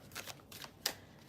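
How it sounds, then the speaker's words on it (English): Tarot cards being shuffled by hand: a few soft riffling bursts close by, with one sharper snap of cards near the end, quiet and without talk. "Let me just shuffle"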